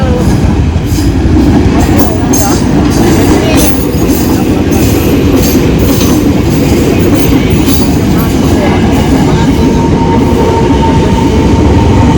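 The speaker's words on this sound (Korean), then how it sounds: "저쪽에 기차가 오고 있는 것 같아요" A train rumbles past loud and close in Jakarta, a steady heavy roar of wheels on rails with rhythmic clacking throughout.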